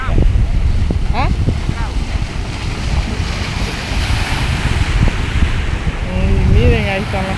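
Sea surf washes steadily onto a beach, a continuous rushing roar with wind buffeting the microphone, while people talk and call out nearby over the water noise.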